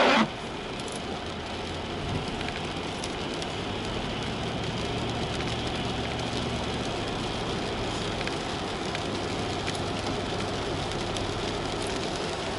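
Rain falling outside over a weekend after snow, a steady, dense hiss and patter that holds at an even level throughout, with a low hum underneath and no voices.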